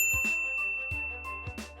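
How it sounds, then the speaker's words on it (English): A bright notification-bell ding rings out alone, struck several times in a quick, clear sequence with a ringing tail after each hit over a faint musical bed. "ring the bell to be notified about our latest videos"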